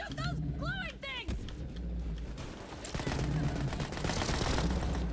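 Gunfire in the video game Borderlands 3, rapid bursts of shots rattling over a dense roar of game noise, with people talking over the top.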